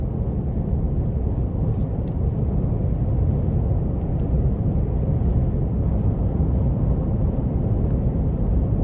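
Cadillac CT6-V, a 2020 flagship V-Series sedan, gives a steady, loud, low engine rumble that holds at an even level throughout with no clear revs or gear changes.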